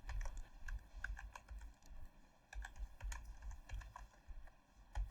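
Rapid keystrokes on a computer keyboard as Python code is entered, a steady run of close, crisp clicks with irregular rhythm and no talk.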